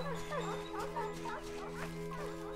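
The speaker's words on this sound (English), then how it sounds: "Yep, they're all barking." Wolves barking in the Kingdoms of Amalur video game, a string of short yips and barks over a steady hum of game music and ambience, with some speech mixed in.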